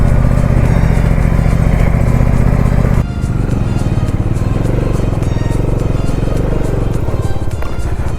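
Motorcycle engine droning steadily during a ride in Tirupati, loud and close for the whole stretch, with a brief shift in tone about three seconds in and no talking.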